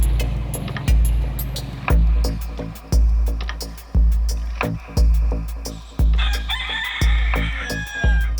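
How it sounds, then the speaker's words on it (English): Roosters crow repeatedly and loudly, several overlapping calls about once a second, with a few clucks between them. "There's so many cocks here. It's crazy."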